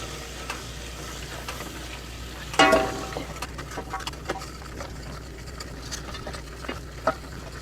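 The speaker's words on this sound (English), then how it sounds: "I'm going to stir this constantly for 2 minutes." All-purpose flour cooking into a roux in a pan makes a low, steady sizzle under repeated scraping and stirring strokes, with one sharper clatter of the spoon partway through.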